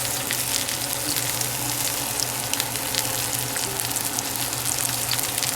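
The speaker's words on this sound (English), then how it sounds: "as you can see, we're giving that side a good sear." Bone-in ribeye steak searing in a hot skillet, a loud continuous close-up sizzle and crackle with steady spitting throughout and no talk.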